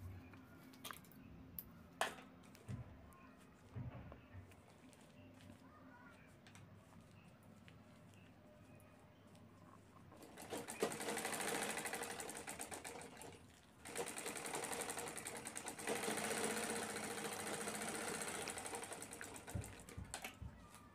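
A sewing machine stitching a handbag starts after a quiet stretch of faint handling noise, whirring in a fast, steady rattle for a few seconds, pausing briefly, then running again at length, close and fairly loud.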